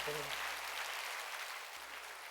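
Congregation applause at an outdoor mountain revival service of a Korean church, a dense steady wash of many hands clapping at moderate distance, fading slightly toward the end.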